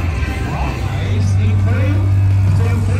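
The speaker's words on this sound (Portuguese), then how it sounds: "esses V8 a gasolina têm um som que parece música" Gasoline V8 engines on off-road trucks roar at an extreme off-road trophy competition in Curitiba, a loud steady low drone with rising revs. Someone talks over the engine noise throughout.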